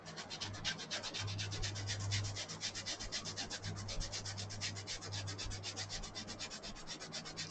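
Steady rhythmic rubbing strokes of a sanding sponge on a surface, close and continuous, with a faint low hum underneath.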